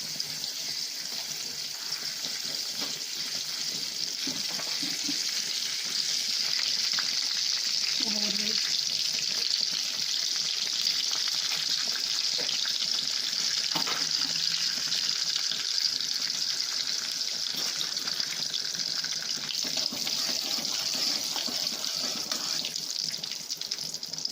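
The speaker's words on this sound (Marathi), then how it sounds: "तेल गरम झालं आहे आपलं। आता जिरं टाकायचं आहे।" Cumin seeds sizzle in hot oil in a kadhai for a dhokla tempering, giving a bright, steady hiss that runs throughout with scattered faint crackles and an occasional soft clink.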